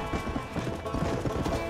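Hoofbeats of wild horses galloping across open country in the video game Red Dead Redemption, a steady rolling clip-clop with occasional whinnies, dense and continuous throughout.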